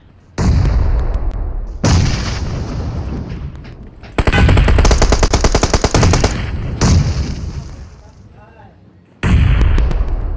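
Bombardment blasts in PUBG Mobile hit in heavy, loud bursts, rapid cracking booms that come in clusters of several seconds with short gaps between them.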